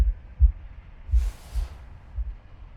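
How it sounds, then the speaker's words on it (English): A deafening heartbeat in the video game The Last Campfire, deep low thumps in an uneven beat with a brief airy swell in the middle, heard alone. "a deafening heartbeat."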